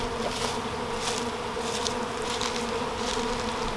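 Honeybees buzz steadily and close throughout an open-hive inspection early in the season, a dense continuous drone with some louder passes near the ear and no talking.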